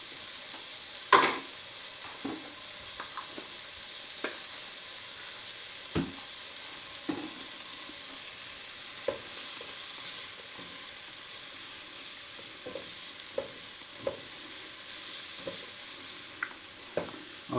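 Garlic, about three teaspoons, sizzles steadily in a hot pan for a Cajun black-eyed pea dish, with a soft continuous fry broken by occasional stirring clicks and scrapes, close and moderately quiet, no talking.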